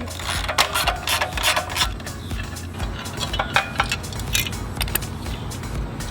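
A screw is backed out of the air cleaner housing on a Troy-Bilt pressure washer with a Briggs & Stratton Intek 7.5 engine, giving close, repeated ratchet-like clicks and small metallic clinks over a steady low hum.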